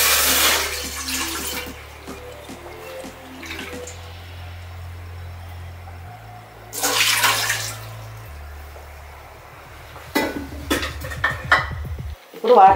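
Water splashes into a cooking pot on a stove in a kitchen, with short bursts of pouring and running water between quieter stretches and some metallic clatter near the end.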